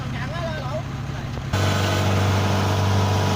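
A powerful 70 cutting machine whose wheels have slipped into a canal. Its engine runs with a steady, close, throbbing drone that kicks in abruptly partway through and holds loud to the end, after a quieter stretch with a voice in the background.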